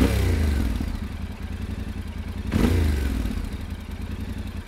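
A Yamaha Ténéré twin-cylinder engine, shared with the MT-07, runs through an optional Akrapovič slip-on exhaust, idling with a steady low throb and swelling in one short rev blip midway before settling back, close by and without talk.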